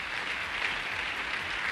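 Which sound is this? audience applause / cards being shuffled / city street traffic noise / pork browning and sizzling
audience applause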